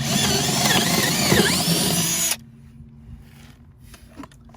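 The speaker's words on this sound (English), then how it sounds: "I'm going to use a 3/8 inch drill bit to go through the little through hole that I made" A power drill with a 3/8 inch bit whines loudly and steadily for a couple of seconds, then stops abruptly, leaving quiet room noise and faint handling sounds.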